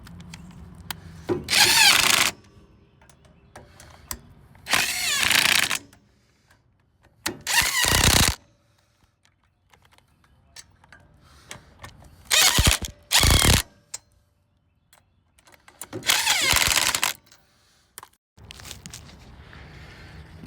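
Power tool torquing down the five bolts of a trailer brake assembly during a DIY brake replacement, firing in about six loud, separate bursts of a second or so each, with quiet pauses between them.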